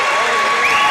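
A crowd at a high school volleyball sectional championship match in Rochester rises to its feet, its cheering and applause forming a loud, steady roar under a commentator's voice.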